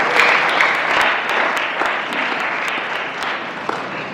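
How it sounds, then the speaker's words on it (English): Big round of applause from a forum audience at a young professionals chapter launch, dense continuous clapping that stays loud and even for several seconds. "This is a big round of applause for them."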